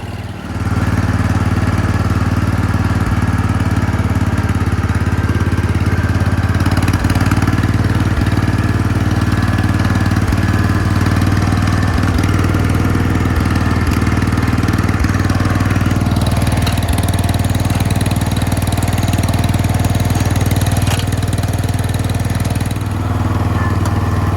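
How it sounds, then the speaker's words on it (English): A John Deere 140 H3 lawn tractor engine runs steadily at a low, droning hum, loud and close, with faint clattering throughout. "That motor just hums along, I'll tell you what."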